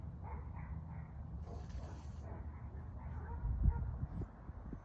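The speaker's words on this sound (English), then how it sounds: "Dogs started." Dogs bark somewhere off in the distance at night, a faint scattered run of barks and yips over low rumbling background noise.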